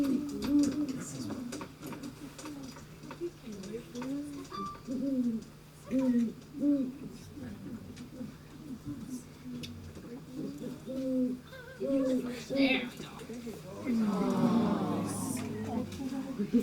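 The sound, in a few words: owl hooting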